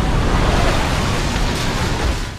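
Large storm waves crash and surge against the coast, a continuous loud roar of surf and wind that fills the whole stretch without a break.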